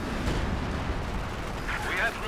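In a Company of Heroes 2 match, an artillery barrage booms as a dense, rumbling roll of explosions under an excited player's voice.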